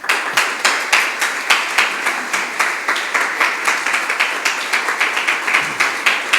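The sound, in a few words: audience applause for William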